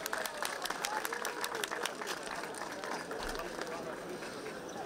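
Applause from a congregation in the cathedral church in Skopje on Christmas Eve, a faint, dense patter of many hands clapping at a distance in a reverberant space.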